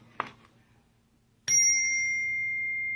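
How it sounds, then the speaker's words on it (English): A bicycle bell rings once, a single bright ding that sustains and slowly fades, following a faint earlier tap, against a low steady background hum. "hit my bell"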